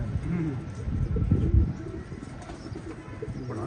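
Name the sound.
pigeon cooing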